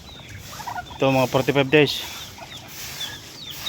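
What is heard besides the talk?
ducks on a farm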